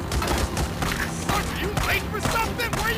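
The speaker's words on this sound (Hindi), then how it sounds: "अबे कम मरेगा इतनी गोलियां तो मार दी मैंने" Rapid bursts of gunfire crackle continuously in the noisy soundscape of the game Days Gone, with a voice talking over the shots.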